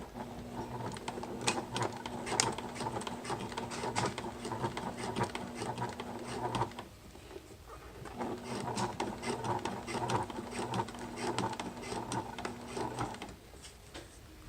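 A sewing machine stitches a leather crossbody wallet in two runs of rapid, even needle rattle, pausing briefly halfway through, close and moderately quiet with no talk.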